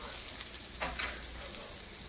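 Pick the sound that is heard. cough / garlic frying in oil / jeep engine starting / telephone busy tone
garlic frying in oil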